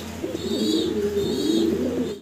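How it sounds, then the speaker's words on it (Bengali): Pigeons at a pigeon market coo nearby in soft, rolling throaty phrases, two overlapping calls repeating steadily with a faint background murmur. "আমরা এখানে আরও কিছু সিঙ্গেল কবুতর দেখতে পারতেছি"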